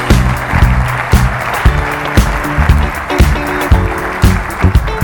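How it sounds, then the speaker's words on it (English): A regional annual conference audience gives a big round of applause: loud, dense, continuous clapping with sharp individual claps standing out for several seconds, no voices on top. "So once again, big round of applause for Dana Bradley."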